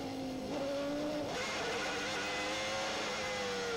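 A 1990 Williams Formula 1 car overshoots its pit box during a tyre stop, its engine note sliding down steadily and then dropping again, loud and continuous over the constant roar of the surrounding circuit noise.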